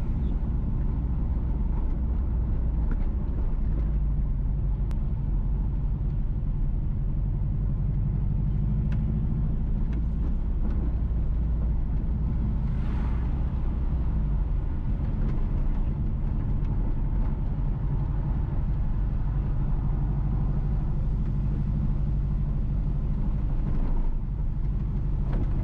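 Car driving along a road through the countryside near Clay Ground, St Ann, Jamaica, a continuous low engine and tyre rumble heard from inside, with faint road noise and occasional bumps.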